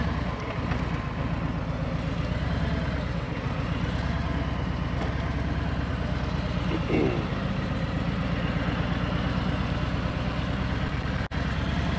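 A motorcycle rolls off slowly as the clutch engages during low-speed turning practice, its engine a steady close rumble throughout with a brief click near the end and no speech.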